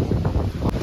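Strong wind on a farm buffeting the microphone, a loud continuous low rumble across the whole brief moment with no talk.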